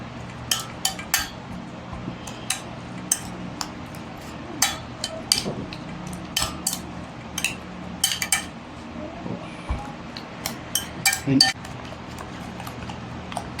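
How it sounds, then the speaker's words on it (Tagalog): Ilocano dinakdakan being stirred in a bowl, with repeated light clinks and scrapes of a utensil against the dish in an uneven rhythm, close and fairly clear. "Yan, haluin nyo lang maigi."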